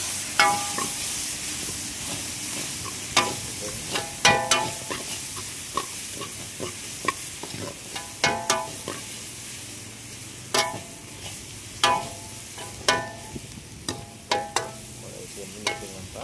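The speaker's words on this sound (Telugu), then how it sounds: "హాఫ్ నింబు బాగా ఫ్రై చేసి బాగా కలుపుకోవాలి" Dosa masala with half a lemon fries in a pan while being stirred, a low steady sizzle punctuated by a dozen or so sharp spoon scrapes and knocks against the pan at irregular intervals, close and unaccompanied by talk.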